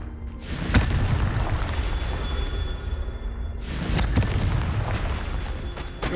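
Confringo spell explosions in the Hogwarts Legacy video game: two deep, booming blasts a few seconds apart, each swelling into a rumbling roar over a steady low background.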